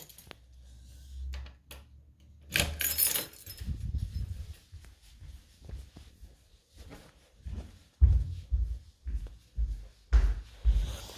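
A key jangles and is worked into the lock of a rear garden door of a house, giving a run of close metallic clicks, rattles and knocks with short pauses between them and no talk.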